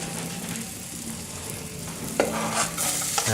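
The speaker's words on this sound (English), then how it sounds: "the garlic has gone into the olive oil with some pepper and is slowly sizzling" Steady gentle sizzle of garlic and pepper frying slowly in olive oil, with a few soft stirring scrapes and clinks partway through.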